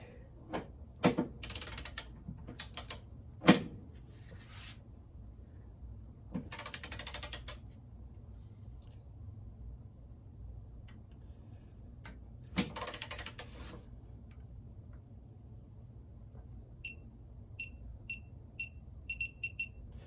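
A ratchet wrench tightens a corroded engine mount bolt to torque spec in short clicking bursts separated by pauses, close and fairly loud, with a faint electronic beeping near the end.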